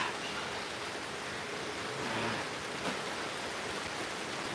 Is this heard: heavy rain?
yes